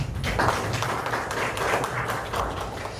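An audience at an academic seminar claps steadily for a presenting professor, a dense, even wash of applause that holds at a moderate level throughout.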